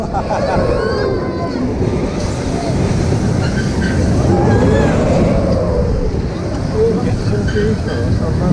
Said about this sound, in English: The mine train over there.